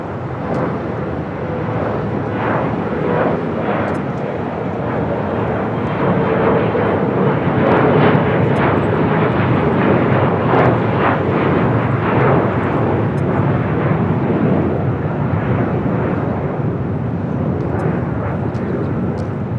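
A Delta Connection SkyWest Embraer E175 jet takes off at a busy airport, its engines giving a loud, sustained roar with a steady broadband rush that swells slightly midway through.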